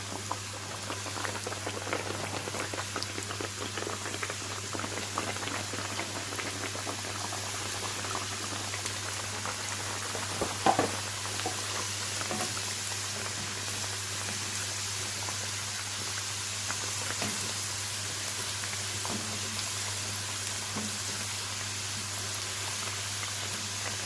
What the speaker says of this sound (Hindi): हमारा ऑयल हो गया गरम। अब हम इसमें एक एक करके इस तरह समोसे ऐड करते जाएंगे।